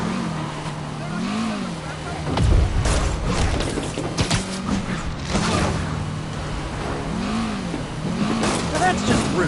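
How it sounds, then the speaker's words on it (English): Car engine in a PS4 video game chase roars and revs steadily, pitch rising and falling in waves, with occasional creaks and clunks and game character voices talking over it. "Yeah, that's a high-speed car chase"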